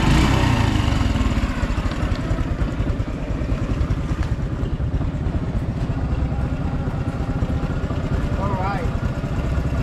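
A Honda Wave 110 motorcycle engine runs during a road test with a steady, buzzing, rough drone close by, loudest at the start and then holding level throughout.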